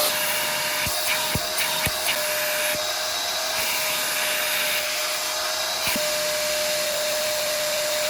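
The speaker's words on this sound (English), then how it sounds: "We're just gonna twist it to regular vacuum." A loud, steady motor whine of a UWANT portable carpet cleaner running continuously in regular vacuum mode, with a few sharp clicks and bumps as it moves.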